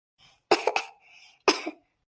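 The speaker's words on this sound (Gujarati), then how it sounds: "ઉધરસ કેમ આવે" Two sharp coughs close by, the first a quick double burst, the second a single hack about a second later, with faint breathing between.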